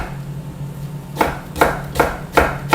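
A freshly sharpened knife chops vegetables thinly on a cutting board for Vietnamese pho, five crisp, evenly spaced cuts, close and distinct over a low background hum.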